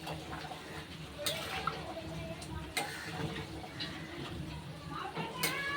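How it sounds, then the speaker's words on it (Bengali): A spoon stirs boiling red chicken curry gravy with potatoes in a pot, with occasional clinks and scrapes against the metal over a soft simmer while someone talks. "ঝোলটা ফুটে গেছে, এবার ভালোভাবে নেড়ে দিলাম।"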